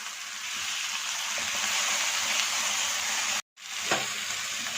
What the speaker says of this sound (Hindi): 2 मिनट तक अच्छी तरह से भून लेंगे।